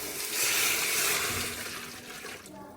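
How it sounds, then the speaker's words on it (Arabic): Boiling hot water is poured over calf trotters in a pot, a steady, fairly close splashing and gushing that swells and then tapers off toward the end. "هسه نزلنا الرجلين نجي ننزل عليهن ماي حار يغلي"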